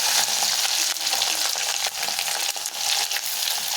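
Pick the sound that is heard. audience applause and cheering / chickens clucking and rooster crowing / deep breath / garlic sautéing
garlic sautéing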